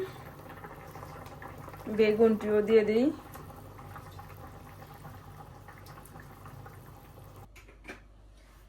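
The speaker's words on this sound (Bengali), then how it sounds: "এই যে ঝোলটা ফুটে উঠছে" Curry broth with fish and eggplant bubbles in a pot, a short burst of lively boiling and gurgling that then settles into a low simmer, with someone speaking over it.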